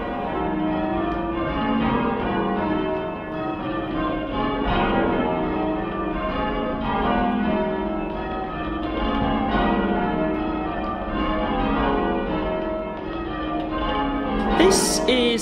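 Church bells ringing in a tower, including a heavy bell of about three-quarters of a metric ton, sounding as a steady, rhythmic sequence of overlapping clear tones that continues without pause.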